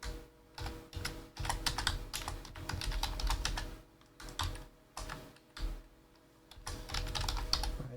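A name is typed on a computer keyboard in quick bursts of clicky keystrokes with short pauses between them, close and moderately quiet, with no talking.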